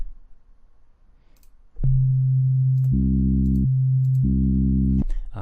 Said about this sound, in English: this sine wave is playing at a lower frequency